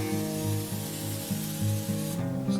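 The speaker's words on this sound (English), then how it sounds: "I'm going to spray a 9x13 baking dish" Cooking spray hisses from a can onto a 9x13 baking dish in a short continuous burst up close, over a steady hum of background music.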